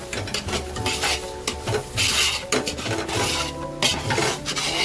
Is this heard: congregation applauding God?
no